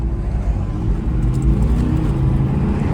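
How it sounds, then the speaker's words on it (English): A V10 supercar's engine roars nearby in a deep, steady rumble that swells slightly as it revs, with no voices over it. "Hear a little bit of that V10 roar in there."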